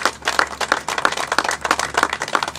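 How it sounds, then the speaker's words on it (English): Audience applause greets Palmdale mayor Jim Litford at a K9 press conference, with dense, steady clapping from a crowd that holds a fairly even loudness and carries no talk over it. "Let's give him a big round of applause."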